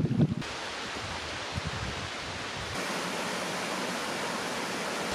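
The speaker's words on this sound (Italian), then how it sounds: "il sentiero è diventato un fiume" Steady rushing water running down a flooded forest trail, a broad continuous hiss that grows slightly fuller partway through, with no talking.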